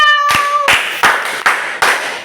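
A child in an Epie language class claps for themselves, five sharp, close hand claps spaced evenly after a brief voice at the start.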